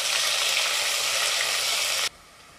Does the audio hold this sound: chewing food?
no